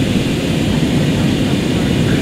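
Steady, loud airliner cabin engine drone, a continuous low rumble with broadband hiss filling the whole stretch without pause, heard from inside the plane during a first solo trip.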